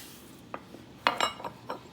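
Kitchen knife slicing through a piece of fresh ginger on a cutting board: a few sharp, quiet taps and clicks spaced unevenly, with a quick cluster of clacks near the middle, no talking.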